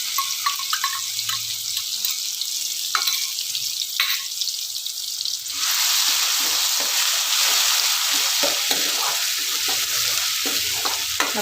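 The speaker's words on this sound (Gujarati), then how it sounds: "તો આપણું તેલ ગરમ થાય એટલે તેની અંદર આપણે 1 નાની ચમચી જેટલું જીરું એડ કરીશું।" Cumin, ginger, chili and garlic hit hot oil in a kadai for parval shaak, giving a loud, steady sizzle that swells after a few seconds and keeps crackling close by, with light stirring and no talk.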